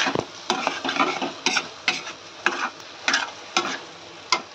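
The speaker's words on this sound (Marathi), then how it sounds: "जसं जसं अंड आपलं फ्राय होतं याच्यामध्ये तेलामध्ये व्यवस्थित" An egg frying in oil hisses under regular scraping strokes of a spatula in the pan, roughly two per second, close and fairly loud.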